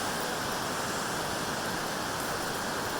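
Rushing water from a stream or waterfall roars as a dense, steady, loud wash of noise, close by and unbroken, with no voices.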